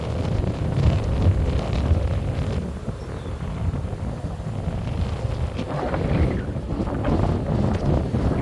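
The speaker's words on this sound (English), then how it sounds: "The wind is really picking up right now." Strong gusting wind buffets the microphone outdoors, a loud continuous low rumble that swells and eases throughout, with no talk.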